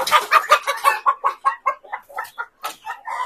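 Caipirão Gigante chickens and a rooster cluck in a quick, uneven series of close, loud calls with no talking.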